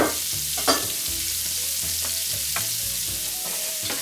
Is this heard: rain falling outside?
no